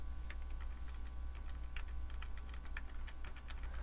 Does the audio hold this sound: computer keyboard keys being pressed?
yes